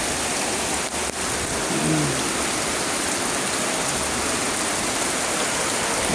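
Heavy typhoon rain pours down steadily, a dense, loud, unbroken hiss close by, with a few faint low thuds and brief tonal knocks early on but no voices.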